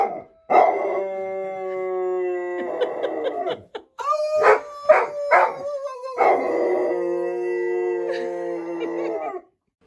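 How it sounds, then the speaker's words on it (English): A dog howls in long, wavering tones that rise and fall, broken by short yips and barks midway, close and loud with no speech. "him and the dog just had a little howling fest"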